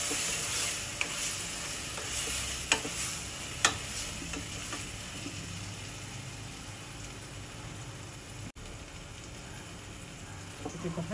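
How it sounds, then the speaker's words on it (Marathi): Grated tomatoes sautéing in a pressure cooker for pav bhaji give a steady, soft sizzle, with a few sharp clinks of stirring near the start and a brief dropout late on. "हे टोमॅटो छान एकजीव होईपर्यंत आपल्याला परतून घ्यायचं।"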